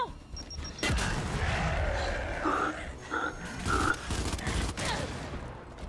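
Sustained gunfire in the video game Gears 5, a dense fusillade of shots and impacts layered over game effects and grunts, loud and continuous throughout.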